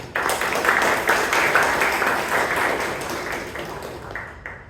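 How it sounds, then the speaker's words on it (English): A Toastmasters club meeting audience in Bangalore applauds the club president, a dense burst of many hands clapping close by that gradually thins out. "A big round of applause to the President."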